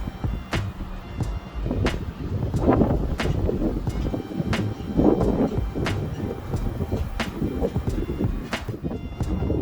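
Strong wind buffets the microphone outdoors in Erie, Pennsylvania, a constant low roar with gusting swells and scattered sharp knocks throughout.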